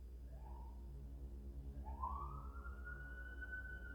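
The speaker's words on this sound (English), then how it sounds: "With all the sirens going on in the background" Sirens from the Blue Prince video game wail in the background, two rising sweeps with the second climbing and holding a steady high tone over a low droning hum.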